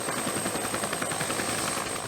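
An AH-1 attack helicopter flies steadily, its rotor beating in a fast, even rhythm with a high whine above, loud and continuous with no voices.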